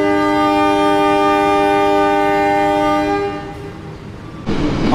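A Pasundan train sounds its horn in a long, loud, sustained blast as it runs at speed, the tone cutting off near the end and leaving rushing track noise.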